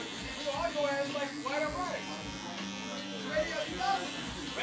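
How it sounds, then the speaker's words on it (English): Electric hair clippers buzz steadily at close range, cutting hair over a comb during a mid fade haircut, with someone talking over the hum throughout. "so I can go with the clipper over comb"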